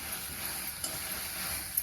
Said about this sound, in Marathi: तर आपल्याला हे बी छान असं भाजून घ्यायचं आहे